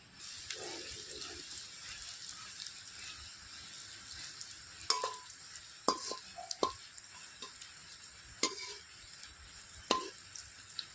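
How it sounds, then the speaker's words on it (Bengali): Bread slices fry in hot oil with a soft continuous sizzle, punctuated by a few sharp clinks and scraping stirs at irregular intervals. "আবারও কিছু পাউরুটি স্লাইস আমি তেলের ভেতরে দিয়ে দিচ্ছি"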